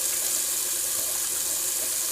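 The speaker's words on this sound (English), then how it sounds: "Just gonna wipe off with a little rinse off, with a little cold water." Cold water running from a bathroom tap into a sink for rinsing the face after shaving, a steady close splashing hiss with no talk.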